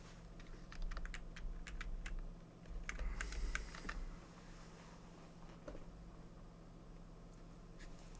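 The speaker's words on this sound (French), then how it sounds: "Donc là, on appuie sur Entrée." Keys pressed on a computer keyboard while installing FreeDOS 1.4 under QEMU, a run of quick close taps followed by a few sparse clicks, faint over a low steady hum.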